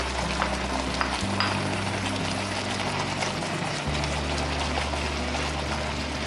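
Steak sizzles steadily in a hot pan as peppers and onion are added, a dense continuous frying hiss, close and loud throughout, with a low background hum shifting partway through.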